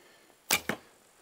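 An arrow of about 240 grain is loosed from a Turkish laminated bow drawing roughly 30 pounds at 28 inches. A sharp release snap is followed a split second later by a second crisp hit, close and isolated against quiet.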